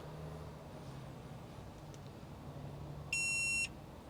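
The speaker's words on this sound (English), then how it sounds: "And you guys can hear it power on." A Topdon Topscan OBD2 scan tool plugged into a car's OBD2 port gives a single short, clear electronic beep as it powers on, sharp and close against a faint steady background hum.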